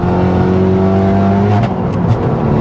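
A loud turbocharged Renault Megane RS track car engine revs and accelerates steadily, its drone climbing in pitch with mid-range turbo boost, with a brief whooshing whistle near the end.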